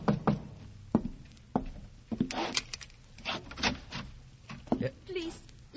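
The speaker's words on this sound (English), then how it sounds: "there was a knock on the alley door" Knocks land on an alley door in an old-time radio drama, a handful of sharp, close wooden raps spaced irregularly, mixed with rustling and movement sounds.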